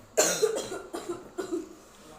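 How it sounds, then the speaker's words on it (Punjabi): A child coughs several times in a short burst, harsh and close, then the coughs trail off. "ਬੇਟੇ ਨੇ ਮੇਰੇ ਨੂੰ ਖਾਂਸੀ ਬਹੁਤ ਜ਼ਿਆਦਾ ਹੋਈ ਹੋਈ ਆ"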